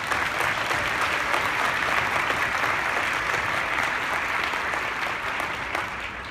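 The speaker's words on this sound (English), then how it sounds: "Let's give all the awardees another round of applause." A large audience at a professional association's awards breakfast claps steadily for new honorees, a dense, even applause that stays loud throughout and tapers slightly at the end.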